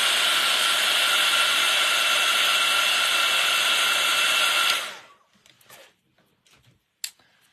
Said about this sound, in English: I'm just going to quickly dry that because some of those splatters are still a little bit wet.